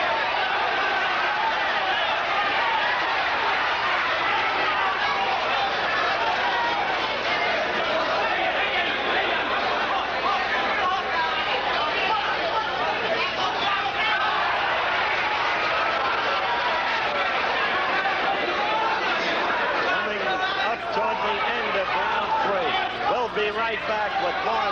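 A crowd at a WBC World Super Featherweight Championship boxing fight, steady loud chatter and cheering from the arena filling the whole stretch, with broadcast commentary voices talking over it.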